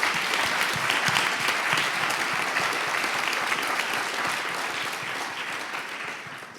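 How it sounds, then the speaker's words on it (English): Applause from an audience in a room at a patient panel discussion, a full, sustained clatter of clapping that slowly fades toward the end. "ask everyone in the room to give you a big round of applause"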